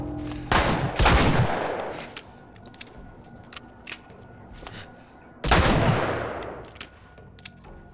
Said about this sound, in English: Yeah, the assault rifle, it's got a little bit hard to handle.